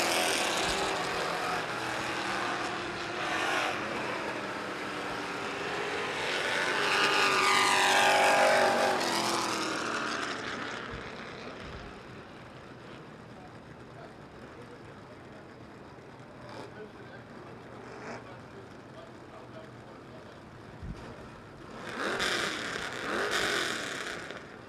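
Limited stock cars roar around Virginia Motor Speedway during qualifying, one car swelling loudly as it passes close by, then fading before more engines build near the end, with a race announcer talking over the track noise.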